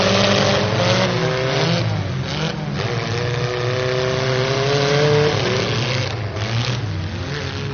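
Race car engines roar and rev steadily at a demolition derby race, loud and close, with layered engine tones rising and falling continuously throughout and no talk.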